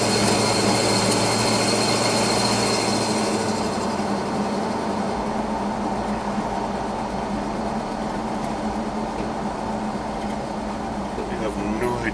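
A 1984 Chevy K20 pickup with a new muffler drives along, its engine and exhaust a steady, loud rumble with road noise throughout and a brief shift in tone early on.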